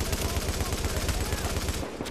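Dense, continuous automatic gunfire from The Division's Dark Zone, rapid shots rattling without pause before cutting out near the end.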